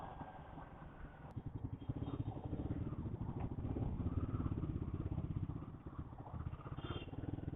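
A Royal Enfield Guerrilla 450 motorcycle with a liquid-cooled engine thrums steadily while riding, a close, rhythmic mid-pitched putter that rises slightly and holds throughout.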